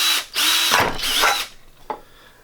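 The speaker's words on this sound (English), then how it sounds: "I'm just going to use a drill." A power drill whines in two loud bursts as it bites through a thin metal can, followed by a short clank and quiet.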